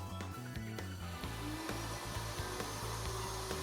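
A table-mounted router cutting box-joint sockets in a wooden board through a Leigh B975 jig template, producing a steady droning motor whine with irregular chattering bursts as the board moves in and out of the cuts.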